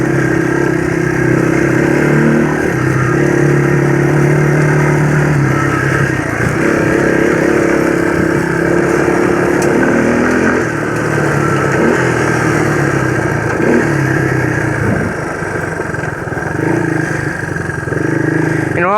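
A Yamaha YTM225 three-wheeler ridden off road drones with a steady engine note that rises and falls as the throttle changes, loud and close throughout the ride.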